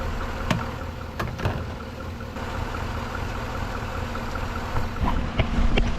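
A 2011 Chevrolet Silverado pickup engine idling steadily after running a while, a low continuous rumble with faint clicks, heard alone without talk.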